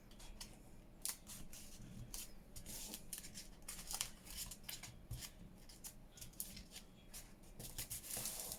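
Scissors snip through paper while an envelope junk journal is made, with repeated close, crisp cuts in an uneven rhythm over a low background and no talk.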